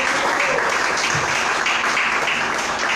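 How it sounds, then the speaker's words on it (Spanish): Congregation applause during a Spanish-language church sermon, a dense, loud, continuous clapping that fills the whole short stretch without pause. "Denle un aplauso al Señor."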